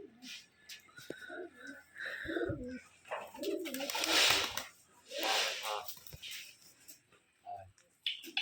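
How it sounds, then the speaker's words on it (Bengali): Pigeons at a pigeon farm in Rajshahi give soft, throaty cooing in short bursts, heard close and mixed with people talking nearby. "কবুতরগুলো মাশাআল্লাহ অনেক সুন্দর আছে।"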